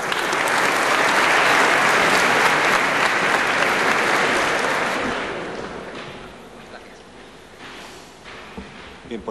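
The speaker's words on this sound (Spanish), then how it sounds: "recibimos con un fuerte aplauso también a Jesús Enríquez" Loud, dense applause from an audience at a presentation gala welcoming a speaker, holding strong for about five seconds before fading into scattered claps and room murmur.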